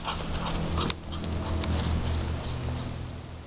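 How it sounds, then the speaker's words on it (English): A pet dog back home whimpers softly over steady outdoor background noise, with a brief sharp sound near the start and faint breathy noises throughout. "I love this dog."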